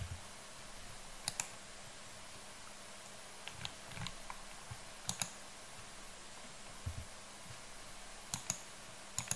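Sparse, faint mouse clicks scattered over quiet room noise while working in Blender, single sharp ticks spaced a second or more apart.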